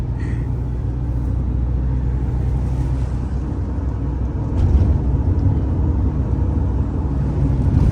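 A car drives along the highway past Pune on a trip from Mumbai to Kolhapur, its engine and road noise forming a steady low rumble that swells slightly partway through, with no talking.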